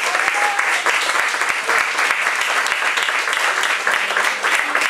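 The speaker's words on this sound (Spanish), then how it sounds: "Un aplauso para él." An audience at a live Spanish-language concert claps loudly for the accompanying pianist, with dense sustained applause and a few cheers throughout.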